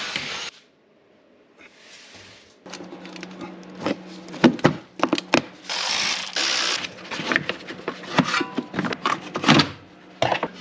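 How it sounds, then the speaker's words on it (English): Wheel removal on a BMW X5 E70 4.8i produces close ratcheting clicks, metallic clanks and handling noises in irregular bursts after a quiet start, with no talking. "In an effort to get to the nuts on the back of the starter a little easier, I decided to remove the wheel and see if that helped."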